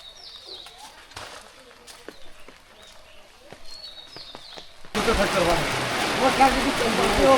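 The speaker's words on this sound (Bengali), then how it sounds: "এত বৃষ্টি হয়, একেবারে ডুবু ডুবু পানি" Heavy rain falls on a village during the monsoon season, starting abruptly as a dense, loud hiss partway through after a quieter stretch with birdsong.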